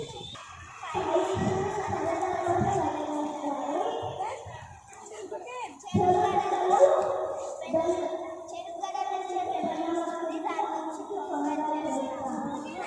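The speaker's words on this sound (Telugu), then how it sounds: "క్లాప్స్. Claps claps." A group of children cheer and shout with scattered clapping, a loud, lively crowd that swells twice, with adult voices mixed in.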